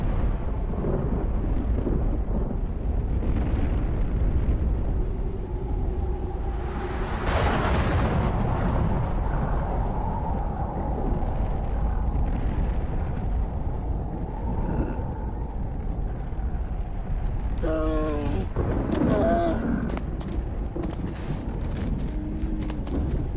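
Deep, continuous rumbling roar of a distant volcanic eruption, heavy low booms rolling and swelling over a prehistoric landscape, with a few sharper cracks and bird-like calls near the end.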